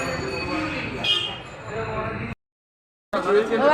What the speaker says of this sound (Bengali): বনিরা আসলেই টিকিট কেটে ট্রেনে উঠে পড়বো।